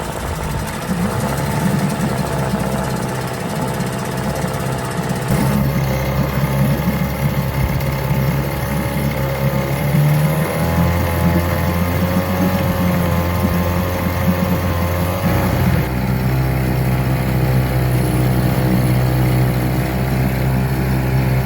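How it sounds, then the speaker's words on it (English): A 56-year-old Mercury outboard boat engine idles steadily at low revs, a continuous mechanical rumble that shifts pitch slightly a couple of times, with no voices. "when the engine was running there, when I was putting the revs really low"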